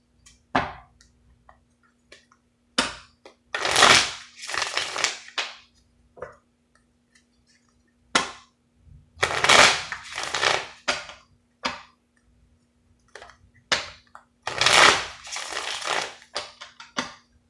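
Three bursts of tarot cards being riffled and shuffled up close, separated by quiet pauses with small taps and rustles.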